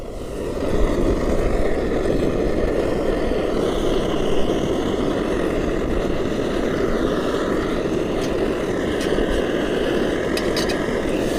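A Tornado jet camping stove burner roars steadily and loudly at a wild camp, a dense continuous rushing hiss with no break for the whole stretch and no talking over it.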